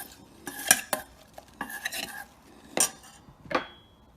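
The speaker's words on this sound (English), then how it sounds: "I'm going to mix those just with some olive oil and red wine vinegar, a pinch of salt." Salad leaves being tossed with olive oil and red wine vinegar in a bowl, giving a series of separate clinks and scrapes of utensils, louder bursts near the start and twice near the end, with quieter stirring between and no talk.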